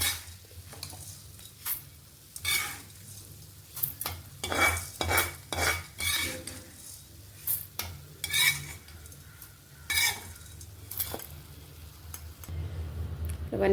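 Fried spices are scooped out of a pan into a bowl: a run of irregular scraping, clinking spoon-on-metal strokes, each a short burst separated by brief pauses, over a faint background hum.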